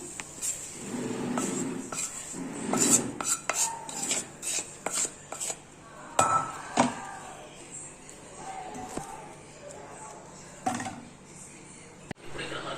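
Carrot fry being scooped from a pan onto a serving plate, giving scattered clinks and scrapes of utensil against cookware, close and moderately loud, with some brief quiet talk mixed in.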